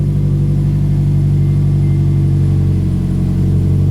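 A Subaru boxer engine with an upgraded exhaust revs loud and close, holding a deep, continuous rumble with a throaty drone throughout, no voices over it.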